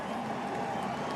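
Large crowd at the 2018 Bristol night NASCAR race roaring and cheering in a steady, dense wash of sound with no clear breaks.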